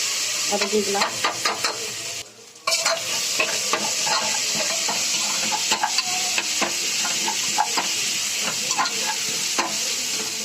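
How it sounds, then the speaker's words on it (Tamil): Onions sautéing in a pan for tomato rice, a steady close sizzle broken by frequent scraping stirs of a utensil, with a brief quieter gap partway through. "வெங்காயம் நல்லா பொன்னிறமாக வதங்குற அளவுக்கு வதக்கிக்கலாம்"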